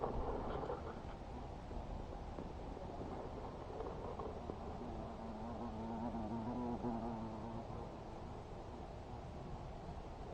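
A faint bee buzz hums through a low, steady outdoor background at an apiary, with a soft wavering drone rising briefly in the middle.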